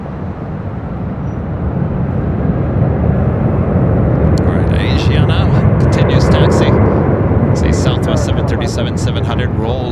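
A Boeing 737-700 jet takes off from runway 24 left, its engine roar building and holding strong and broad across the runway while a voice talks over it.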